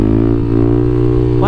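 A Kawasaki KLX300SM dirt-bike engine holds a loud, steady idle-to-rev drone, then climbs sharply in pitch at the very end as the throttle opens.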